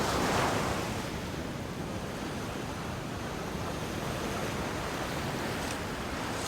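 Strong sea waves wash and roar in a continuous rush beside Saryonggul sea cave on a coastal trail, with wind buffeting the microphone, loud and unbroken.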